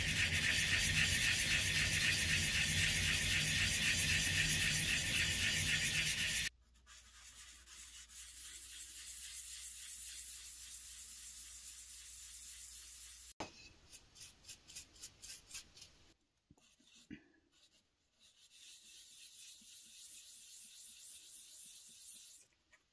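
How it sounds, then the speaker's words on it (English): Wood cookie hand-sanded with 100 grit sandpaper, a loud continuous rasping rub at first, then quieter scratchy strokes broken by short pauses. "time to start polishing. I'll start with 100 grit."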